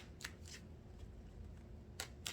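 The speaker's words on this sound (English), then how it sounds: "Let me give this a good shuffle" A deck of tarot cards being shuffled, with a few quick riffling bursts spaced apart over faint background noise, close but quiet.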